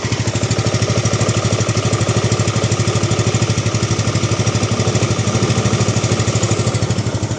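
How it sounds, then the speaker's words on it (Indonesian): A 2005 Yamaha Mio scooter idles after a kick start, its small engine chugging in a steady, fast, even pulse with a buzzing exhaust, loud and close, running alone for several seconds. "Untuk suara mesinnya teman-teman dengar sendiri ya."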